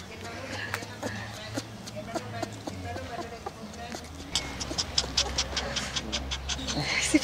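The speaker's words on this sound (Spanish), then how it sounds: "El ruido del perro ahorita." A dog pants in quick rhythmic breaths close by, with footsteps and a busy background of chatter.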